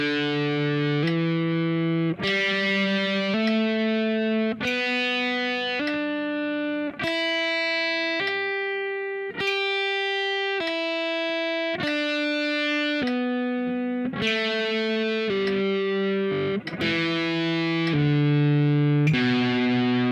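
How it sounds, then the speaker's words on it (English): Distorted electric guitar plays a steady sequence of single notes, alternating picked and hammered-on attacks in an even rhythm set by metronome clicks, with no speech. "So I'm going to pick on one click, hammer on the next click."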